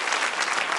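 A brief burst of audience applause, many hands clapping in a steady, fairly loud wash with no talk over it.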